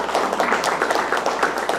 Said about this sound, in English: So let's have a round of applause for ourselves.